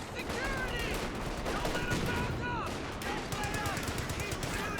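Machine gun fire from a Company of Heroes 2 match plays as dense, continuous rattling bursts under layered battle noise, with a commentator's voice faintly present beneath the clatter.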